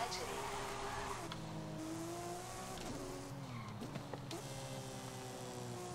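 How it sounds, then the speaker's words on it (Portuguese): A Porsche 911 Carrera S engine roars in Forza Horizon 5, its revving pitch rising and falling with a brief tire squeal, while a voice talks over it. "olha o ronco desse carro, velho."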